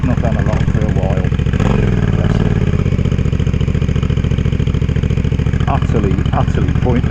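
A Suzuki SV650 motorcycle idles on choke with a steady, loud, throbbing engine note that runs throughout, slightly uneven as it warms, while someone talks over it.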